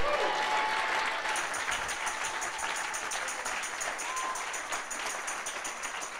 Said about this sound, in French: Ah, acclame-le encore plus fort.